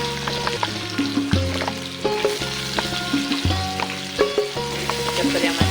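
Sweet potatoes fry in a pan for a dry fasting-style dish, giving a steady sizzle with scraping stirs and light clatter, close and fairly loud, with tonal background music running underneath.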